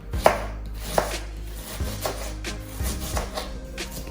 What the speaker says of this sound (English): I'm going to cut up that half of an onion.